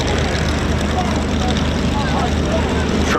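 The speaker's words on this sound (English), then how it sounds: "What a wonderful sound. 3 Rolls-Royce Merlins, close formation." Three Spitfires flying in close formation at an airshow, led by a Mark 9 with a Mark 16 on the wing, all powered by Rolls-Royce Merlin engines, make a loud, continuous piston-engine drone, with a voice speaking over it.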